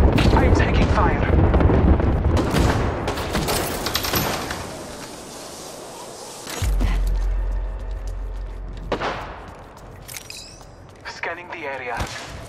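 Gunfire bursts in Apex Legends as Bangalore comes under attack, sharp loud cracks and booming impacts clustered early, then scattered shots and a heavy low thump, with game voice lines over the action.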